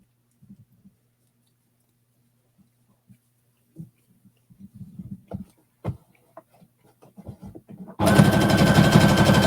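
A sewing machine starts up loudly and runs steadily while hemming stretched knit fabric, preceded by several seconds of faint scattered taps and fabric handling.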